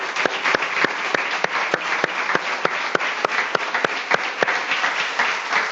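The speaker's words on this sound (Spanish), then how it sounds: "Démosle un aplauso al Señor" A church congregation claps in praise to the Lord, loud and close, with sharp regular beats standing out over a dense continuous patter of hands, no talking.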